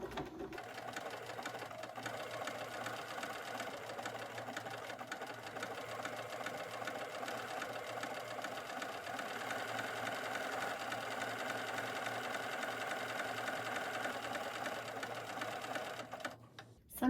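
A sewing machine runs steadily in zigzag stitch along the edge of fused appliqué fabric, a continuous even whirr at moderate volume that stops abruptly near the end.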